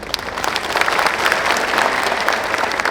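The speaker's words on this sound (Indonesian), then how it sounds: "Tepuk tangan ucapan terima kasih pada Kasitu" Loud, continuous clapping fills an indoor hall as a big crowd of students and parents applauds, swelling slightly in the middle and holding steady to the end.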